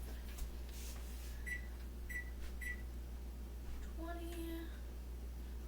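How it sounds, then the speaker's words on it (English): A quiet steady hum of a microwave oven running, with a few short beeps from its keypad as it is started and a longer tone partway through. "We're going to start it on our microwave."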